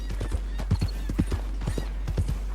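Horse hooves clip-clop in a steady walking rhythm in the video game Red Dead Redemption 2, with a low hum beneath and no talking.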